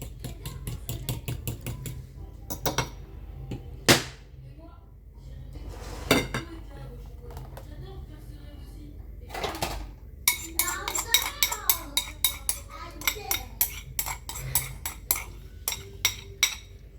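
Chocolate cake batter for an ultra-moist cake is mixed in a bowl: scattered clinks and scrapes of a utensil against the bowl, turning into a quick, steady run of rhythmic clinking in the second half, fairly close.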